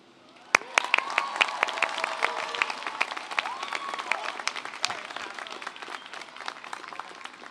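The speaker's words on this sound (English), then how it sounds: "let's give him another round of applause" Audience applause at a university commencement after a graduate's speech, opening with a few sharp near claps and then building into dense, sustained clapping with scattered cheers and whoops.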